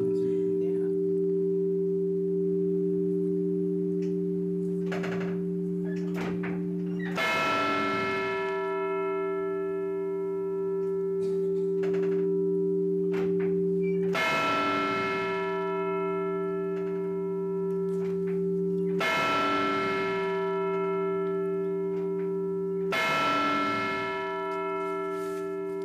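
A large bell rings in a council chamber, with deep sustained humming tones and several heavy strikes spaced several seconds apart, each followed by a long ringing decay, loud and near.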